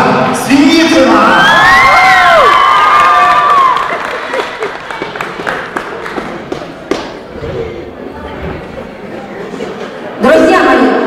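An audience greets a contestant with loud whoops and cheering voices at first, then scattered claps and thumps fade into a sparser, quieter stretch before a final burst of noise.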